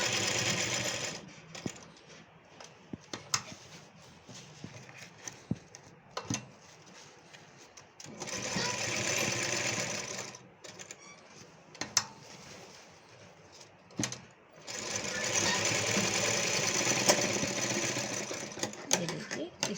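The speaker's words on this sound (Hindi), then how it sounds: "इसमें 3-4 सिलाई लगा देते हैं, जिससे अपना इलास्टिक खुले नहीं," An electric sewing machine runs in long bursts while stitching elastic onto a can-can skirt, its steady close whirring broken by short pauses, with someone talking between and over the runs.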